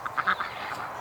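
Ducks near a freshly scrubbed barn give a few short quacks in quick succession, fairly close, then trail off into a quieter wash of background noise.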